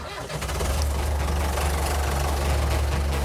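A farm tractor engine starts and settles into a loud, low, knocking idle that chugs steadily up close, with no talk over it.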